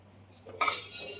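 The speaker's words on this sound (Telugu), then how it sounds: "ఈ చిన్న ప్యాన్ తీసుకున్నాను" A small pan for dry-roasting spices is picked up and set down in a quiet kitchen, a single metallic clink followed by a brief ringing clatter.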